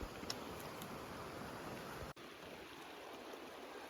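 Molar Creek running high along a backpacking trail near Molar Pass, a steady broadband rush of water heard faintly at a distance, continuous with a brief dropout partway through.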